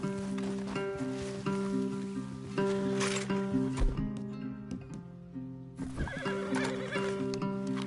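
A horse whinnies loudly over a steady clip-clop of hooves in a video game, with a musical drone underneath and a second neigh near the end.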